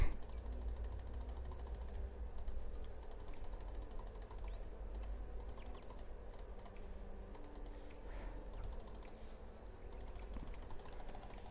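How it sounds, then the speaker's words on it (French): Rapid, irregular key clicks and taps over a low hum, continuous and fairly quiet, from a keyboard and mouse in constant use while gaming on a PS4. "je joue clavier souris sur PS4"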